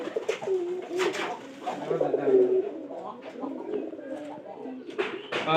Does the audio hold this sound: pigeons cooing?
yes